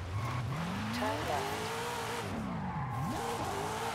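In Forza Horizon 5, a drift car slides across dirt, its engine loudly revving up and down while the tires scrub and skid continuously, close and sustained.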